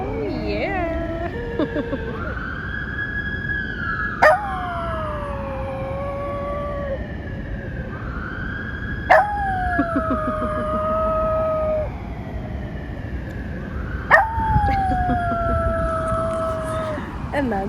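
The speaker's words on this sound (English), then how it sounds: "Every single time there are sirens, this little lady sings." A small female dog howls along with passing emergency sirens, her long rising-and-falling wails repeating in three cycles over the continuous siren drone, each cycle punctuated by a sharp peak.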